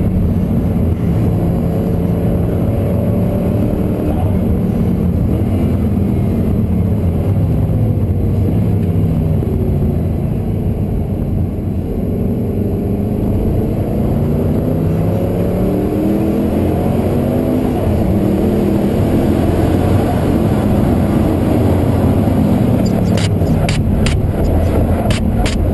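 Noble M600 engine pulling hard around the Nurburgring, a loud continuous in-car drone with rising and falling pitch sweeps through gear changes, filling the whole stretch with no talk.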